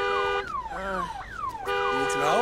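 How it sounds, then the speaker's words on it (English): A car alarm wails near a hotel in a crime drama scene, loud swooping and stepped electronic tones cycling, while someone speaks briefly over it. "I could hear your alarm all the way from the hotel bar."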